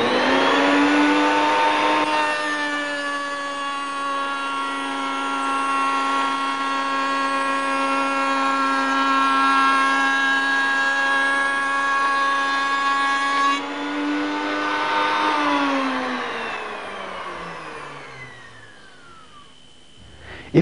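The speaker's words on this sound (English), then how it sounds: "Fingers well clear, do a dummy run by dropping the router cutter if you wish." A Triton Mk3 router from 1984 runs on timber with a loud, steady high motor whine for about thirteen seconds, then its pitch sinks as the motor winds down.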